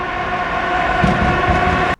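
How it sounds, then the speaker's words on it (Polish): A loud train rumbles past with a steady droning tone, continuous and close, then cuts off abruptly. "Pociąg."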